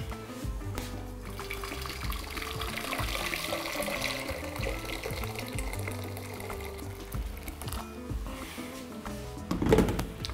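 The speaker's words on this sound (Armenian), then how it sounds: "Եռացրած ջուր ենք լցնում կաթսայի մեջ։" Boiled water pours into a cooking pot for a vegetable and pasta soup, a continuous close trickle and splash with some clinking of kitchenware and a brief louder gush near the end.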